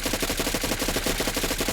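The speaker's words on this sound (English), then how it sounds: "I wasted a whole mag without hitting" Rapid automatic gunfire from a 10mm SMG modelled on an HK MP9 in modded Fallout 4, a steady stream of closely spaced shots running through the whole stretch, loud and continuous with no talking.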